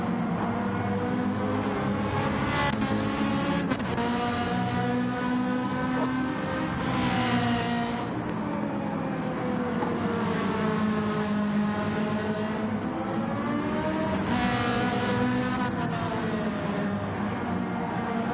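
Race cars in URL Saturday League Round 8 scream through corners, engine notes rising and falling as they brake and accelerate, several cars close together, loud and continuous throughout.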